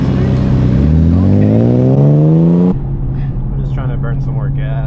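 A tuned BMW M4 engine revs up, its pitch climbing steadily and loudly for a few seconds before cutting off. A lower idle follows, and a voice speaks briefly near the end.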